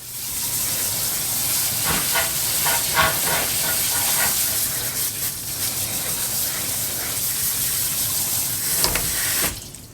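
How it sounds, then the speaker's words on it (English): Tap water pours steadily over rice in a fine mesh strainer, a continuous hissing rush that runs nearly the whole time with small splashy variations and stops abruptly at the end. "So I just put mine in a fine mesh strainer like this and give it a nice rinse until the water runs clear."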